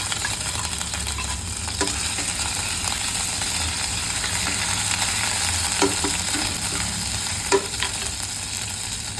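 Ginger garlic chili paste sizzles steadily in hot oil, a continuous close frying hiss with occasional clicks and scrapes of stirring.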